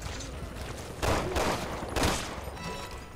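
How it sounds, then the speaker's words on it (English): Gunfire in Resident Evil 6 during Jake and Sherry's chapter, two loud bursts of rapid shots about a second apart over a low background rumble. "Why are they shooting at Jake?"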